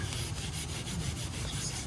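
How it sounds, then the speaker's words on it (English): A steady, rhythmic rubbing rasp of wet sanding aluminum trim on an Infiniti G37 back and forth, close up and continuous, with no voices. "So we'll go ahead and start sanding it"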